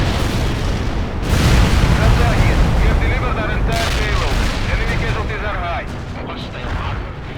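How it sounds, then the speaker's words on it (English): A Soviet Tu-95 bombing run pounds the ground in the World in Conflict video game. Loud, overlapping explosions and heavy rumble keep rolling for several seconds, with a voice audible amid the blasts. "They should be able to break the American attack completely with their bombing runs"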